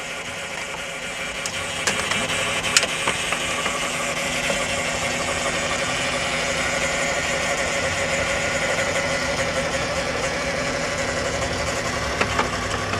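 A car engine idles steadily nearby with a faint whine from a tired transmission pump layered over the hum, broken by a few brief clicks and taps.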